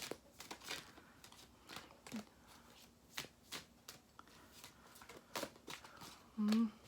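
A deck of tarot cards is shuffled by hand in a quiet room: a run of faint, irregular flicks and riffles with one firmer burst near the end.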